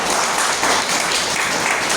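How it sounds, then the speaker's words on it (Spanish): Church congregation applauding during a Spanish-language service, a broad, continuous roar of many hands clapping, loud and close, holding steady without a break and without talk over it. "Denle otro aplauso al Señor."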